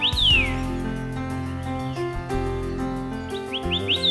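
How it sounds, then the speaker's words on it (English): Forest birds in a mountain national forest recreation area give quick, high chirps and sweeping tweets, a few clear bursts at the start and end over a soft musical background. "The calls of birds and insects lead the way into this experience for the senses"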